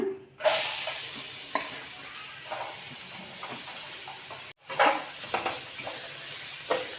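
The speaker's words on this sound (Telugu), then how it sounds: "చూడండి మొత్తము ఇట్లా వేపుకోవాలి" Grated carrots drop into hot ghee for carrot halwa with a sudden loud sizzle, then a steady hissing fry broken by spatula stirs and a brief pause before sizzling resumes.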